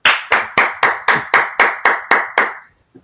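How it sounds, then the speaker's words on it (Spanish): Rhythmic, evenly spaced hand claps greet a guest on a live Spanish-language show: about nine sharp, close claps with short room echo, then they stop. "Por favor, un fuerte aplauso para Jaime Domínguez."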